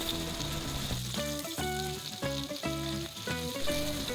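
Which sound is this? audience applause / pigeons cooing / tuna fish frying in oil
tuna fish frying in oil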